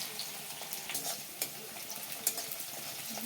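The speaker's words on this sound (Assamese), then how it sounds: "পিঁয়াজটো আপোনালোকে অকণমান ৰংচুৱাকৈ ভাজি ল'ব" Chopped onion frying in oil in a pan, a continuous near crackling sizzle broken by a few sharp scrapes and clicks from stirring.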